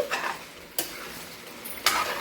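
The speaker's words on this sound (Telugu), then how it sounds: "మనం తిప్పుతూ ఉండాలి" A spoon stirs a bottle gourd pickle mixture with ground fenugreek and mustard in a pan on the stove, giving three distinct scraping strokes with a soft sizzle between them and no talk.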